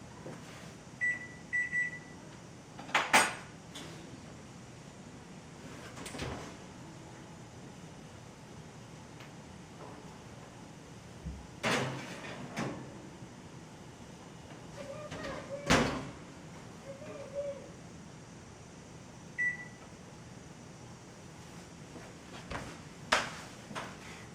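An oven door is opened and shut several times in a home kitchen while cheesecake bars bake, with scattered clunks and thumps, faint beeps and a low steady hum, fairly quiet and spread out over time.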